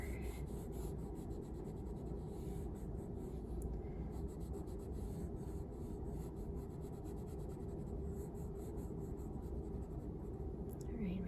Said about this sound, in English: then we'll draw some big blades of grass over here, some of these reeds over here